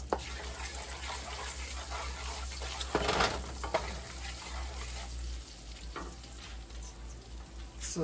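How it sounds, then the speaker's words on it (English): Rice frying the Nigerian way in a pan with turmeric, a steady loud sizzle with brief louder bursts of stirring, no voices. "So I'll be frying my rice the Nigerian way actually."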